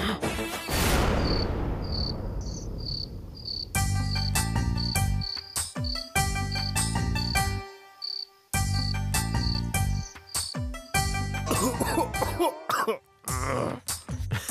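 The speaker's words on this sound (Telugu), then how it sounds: "ఏంట్రా నేను దగ్గితే నీకు అంత హ్యాపీ అయితే నీకోసం మళ్ళీ దగ్గుతా." A rough, close cough is heard in a Telugu TV serial scene, then loud background music with bright chirping tones and pauses takes over.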